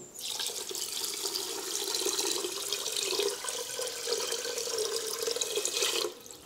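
A steady stream of water pours into a pot of sugar for gulab jamun syrup for about six seconds, fairly close and even, then cuts off.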